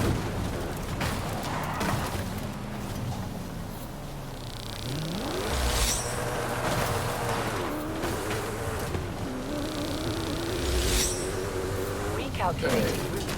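Koenigsegg CCX supercar engine in Forza Horizon 5, revving and shifting through gears with rising and falling pitch, under steady talk from a player.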